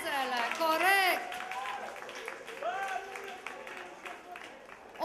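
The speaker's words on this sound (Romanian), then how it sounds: "Haideți să aplaudăm, că merită, merită aplauzele, corect!" An audience at a karaoke awards night in a Hard Rock Cafe in Bucharest applauds with scattered clapping and cheers, while an excited voice talks loudly over the crowd.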